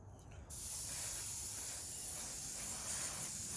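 After a short quiet moment, a spray gun laying a light coat of paint onto a custom Mustang Fastback bursts into a loud, steady hiss that continues unbroken to the end.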